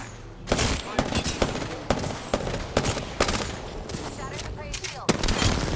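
Gunfire in a video game: loud, close shots in irregular bursts, some single sharp cracks and some quick strings, ringing over a busy battle soundscape.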